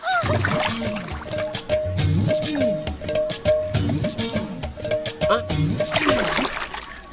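A person dips repeatedly into river water, and the splashing and sloshing come in waves under a steady musical backdrop with tonal drones.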